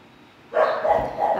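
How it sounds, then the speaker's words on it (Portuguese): Dogs start barking after a quiet moment in a backyard, a continuous burst of yappy barks close by, fairly loud and unbroken. "Elas estão latindo porque está passando um sorveteiro apitando na rua."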